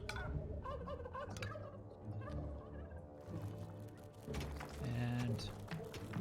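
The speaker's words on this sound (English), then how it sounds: "Let's make more chickens." Chickens in the dungeon-management video game Dungeons 3 gobble and cluck in short, fairly loud bursts over game music, while someone talks quietly through part of it.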